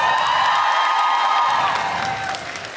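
A studio audience bursts into loud applause with cheers and whoops, sustained and close, then easing slightly toward the end.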